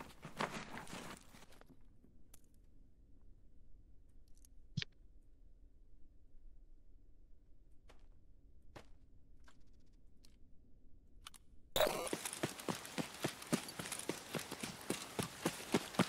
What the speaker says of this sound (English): I heard a footstep